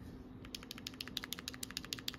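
Quick run of clicky keystrokes on a computer keyboard, faint and close, about a dozen crisp taps in an uneven typing rhythm over a low background hum.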